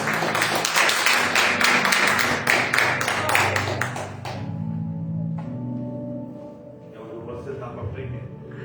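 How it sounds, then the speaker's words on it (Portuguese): Applause at a church service fills the opening seconds, a dense wash of many hands clapping that fades out around the fourth second, leaving low background sound and a voice. "Vamos dar uma salva de palmas, diaconisa Luciana, vem cá"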